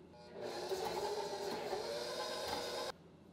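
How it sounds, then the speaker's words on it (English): A stand mixer fitted with a whisk attachment whirs steadily while beating the wet ingredients for keto gingerbread cookie dough, starting abruptly, running evenly for about two and a half seconds, then cutting off sharply. "we are gonna go ahead and use this kind of whisky attachment as opposed to the paddle for at least mixing the wet ingredients"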